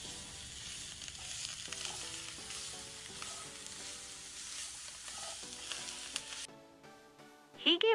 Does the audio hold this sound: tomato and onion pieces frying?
yes